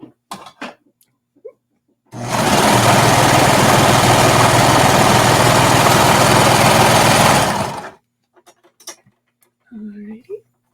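A sewing machine stitches leggings seams in one loud continuous run of about six seconds, a fast whirring buzz close by, with someone speaking briefly before and after.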